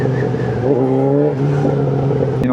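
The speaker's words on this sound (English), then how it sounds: "Keep it revving." A Yamaha XJ6N motorcycle engine revs on a street ride in Coventry, a loud, steady near drone with the pitch climbing and sliding back, then a sharp burst near the end.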